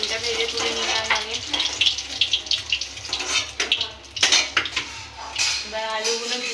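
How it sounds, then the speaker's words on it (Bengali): An egg frying in a pan until deeply browned, a sizzle broken by clinks and knocks of a utensil against the pan, with a voice briefly heard in the background. "ডিমটা একদম লাল করে ভেজে তুলব"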